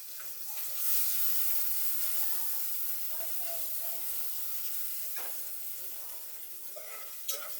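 Chili, onion and garlic frying together in a pan, a soft steady hissing sizzle close by with a few stirring clinks and faint background voices.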